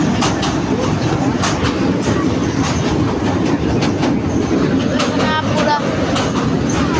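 A moving passenger train clatters steadily on its rails in loud, continuous wheel and carriage noise, with a brief voice heard over it.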